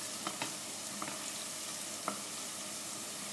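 Onions frying in a pan for Tunisian madfouna, a steady close sizzle with a few soft clicks of stirring, alone without talking.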